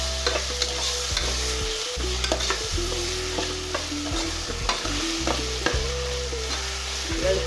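Garlic-ginger paste frying in a pan for beef curry, stirred with a utensil: continuous close sizzling under repeated scraping and knocking strokes against the pan, with a low steady hum underneath.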